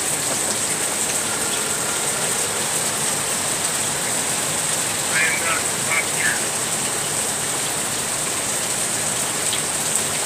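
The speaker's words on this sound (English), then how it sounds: "Means it's raining." Steady rain patters on a surface, a dense even hiss throughout with a few faint chirps in the background.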